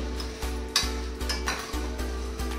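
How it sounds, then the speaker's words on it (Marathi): Idli podi spice mixture dry-roasting in a pan, with soft scraping stirs and light crackles recurring every half second or so over a low steady hum, fairly quiet and close, without any talk. "मिश्रण आपले व्यवस्थित भाजून घ्या, जेणेकरून आपल्या चटणीला खमंग अशी चव येईल।"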